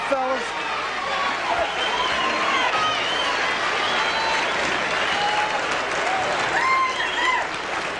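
Boxing arena crowd applauding and cheering after a bout between Roy Jones Jr. and Bernard Hopkins, a loud, steady wash of clapping and voices that runs the whole clip, with an announcer talking over it.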